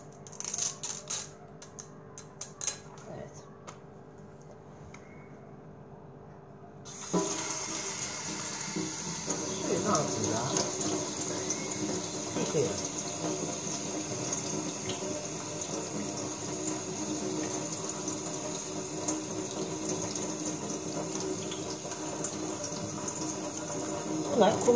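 Tap water runs from a faucet over a stencil being rinsed, a steady close hiss of flowing water that begins after a few seconds of quieter sounds and continues unbroken.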